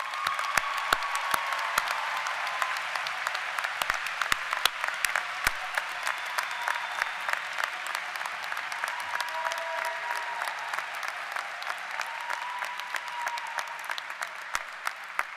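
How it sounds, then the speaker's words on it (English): Warm, sustained applause from a large commencement audience thanking faculty, staff, family and friends, dense steady clapping at an even level across the whole stretch with no talk over it. "would you join me now to say thank you to all the faculty, staff, family, and friends for their support with a warm round of applause"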